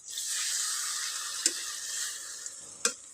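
Banana-leaf-wrapped patori frying in a pan, a soft continuous sizzle with a few sharp clicks and knocks near the end, heard alone without talk.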